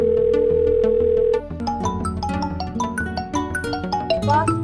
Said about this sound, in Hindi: बस का फिर फोन आ गया